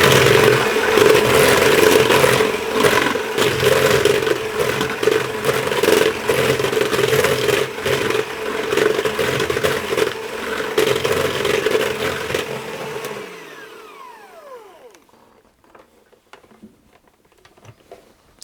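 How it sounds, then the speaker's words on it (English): An egg is whisked into a baking mixture for a strawberry pie, a rapid, steady close-up patter of the whisk against the bowl that slows and stops, leaving quiet scraping. "I'll add in my medium egg, and I'm going to whisk that and get that combined."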